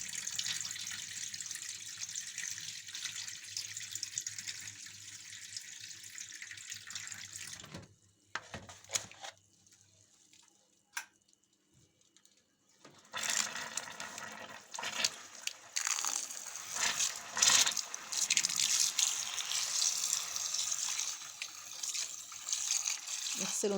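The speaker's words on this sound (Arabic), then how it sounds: "هنغسله من المية اللي كان بايت فيها بالليل ونصفيه كويس." Overnight-soaked wheat grains rinsed under a running kitchen tap, with steady hissing water that stops briefly partway through and then returns with splashing, sloshing and clinking of grains in a bowl, close by, with some talking.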